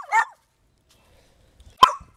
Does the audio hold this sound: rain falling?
no